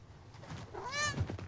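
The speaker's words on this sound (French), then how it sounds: "mais fais pas mal au chat, Crute." A single close cat meow rises and falls indoors, a drawn-out plaintive call against faint room noise and no clear talk.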